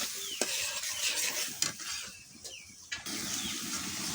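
Spices fry in a pan for a fish and papaya curry, a soft sizzle under repeated scraping strokes of a spoon stirring against the pan, quiet and close.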